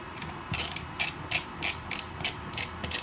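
A screwdriver fitted with a square bit turns a screw to tighten an adjustable stock, giving close, quiet ratcheting clicks in a regular rhythm, about two per second, with no talking.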